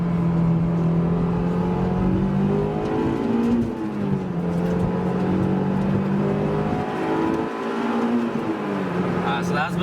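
A Honda S2000 engine revs hard through its VTEC crossover with the stock muffler still fitted, its pitch climbing and dropping through downshifts in a steady, loud, close drone.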